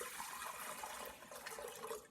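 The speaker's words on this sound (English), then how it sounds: "So I'm going to take the 3 cups of water. I'm going to put it in my mixer." About three cups of warm water pour steadily into a stand mixer bowl while making cheese bread, a continuous splashing rush lasting a couple of seconds with no talking.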